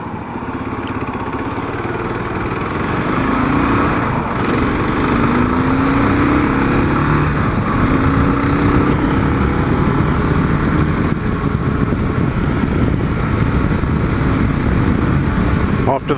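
A Kawasaki KLR 650 single-cylinder motorcycle engine drones steadily while riding through town, loud and close, with constant wind rush and faint rising gear-change tones.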